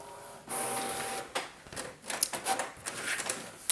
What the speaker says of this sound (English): We'll see what it comes out when it comes out of the printer.